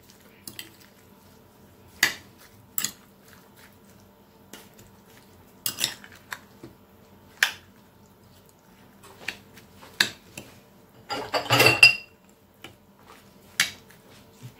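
A large spoon mixes strawberries with sugar in a bowl, giving scattered clinks and scrapes of metal against the dish with a short flurry of stirring near the end, quiet and close.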